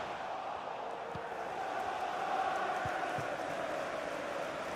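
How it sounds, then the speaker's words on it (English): A stadium crowd in the EA Sports FC 24 football game, Newcastle United against Manchester United in a Carabao Cup match, keeps up a steady roar of encouragement with a loud, continuous swell. "Crowd encouraging him to take it on."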